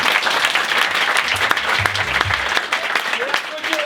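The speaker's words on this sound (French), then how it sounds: "Veuillez applaudir Youssef, s'il vous plaît." Sustained applause fills a theatre at a stand-up show, many hands clapping thickly and evenly throughout, with a speaker's voice faintly cutting in over the crowd toward the close.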